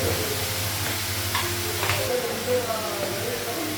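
Cumin seeds hitting hot oil in a home Bengali kitchen pan, giving a steady frying sizzle and hiss with a few stirring scrapes, with a low hum underneath.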